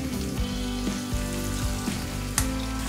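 Ginger paste frying in a pan for mutton curry, a steady close sizzle with occasional stirring scrapes and a brief sharp clink near the end, no talking.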